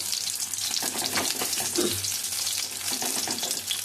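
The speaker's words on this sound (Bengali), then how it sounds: "আর এখানে এখনও একটা ভাজা হচ্ছে" Parshe fish fries in hot oil, a steady close sizzle with bubbling, watery crackle throughout and no voices.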